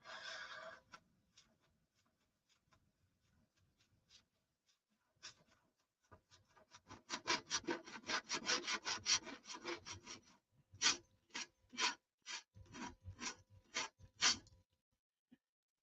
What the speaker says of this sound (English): That's hardwood I'm sanding on there